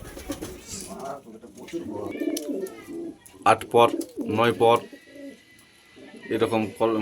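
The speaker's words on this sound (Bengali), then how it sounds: "খুবই কিউট দুটো পায়রা, আন্ধ্রা ম্যাট্রাজি পায়রা।" Two Andhra Madrasi pigeons coo softly and intermittently close by, partly under someone talking over them.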